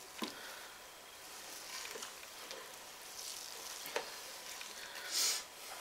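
All-grain pale ale mash being stirred constantly as grains clump, producing a soft, quiet wet swishing and sloshing with a few sharper scrapes, close but low in level, no voices.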